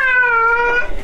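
A single drawn-out meow from a shelter cat, loud and close, with a slight waver toward the end.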